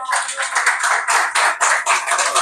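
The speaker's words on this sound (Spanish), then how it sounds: "Dale un fuerte aplauso al Señor." A church congregation claps for the Lord in bursts of loud, close applause, the clapping surging and pausing in an uneven rhythm over a couple of seconds.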